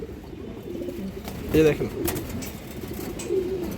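Pigeons cooing softly among a flock of high-flyer pigeons for sale, with low throaty coos under someone talking nearby.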